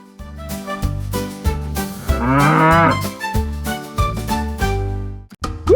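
A cow moos repeatedly and loudly, long drawn-out bellows with rising and falling pitch, over a bouncy children's song with instrumental backing.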